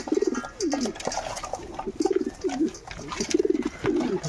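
Black-eyed Jira pigeons in a loft coo in repeated rolling phrases, about four clear bursts in a steady rhythm, close and fairly loud with light background noise.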